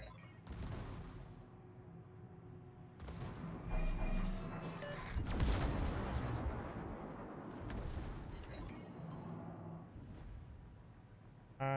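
Guns of the cruiser Pensacola firing in World of Warships, several heavy booming salvos with rumbling tails rising and falling over the stretch, with voices talking amid the naval battle noise.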